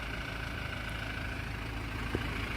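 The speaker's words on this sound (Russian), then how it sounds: "Двигатель красиво работает, конечно." A 2019 Toyota Prado with a 2.8 diesel engine idles with a steady low rumble and an even mechanical hum, heard close, with one brief knock near the end.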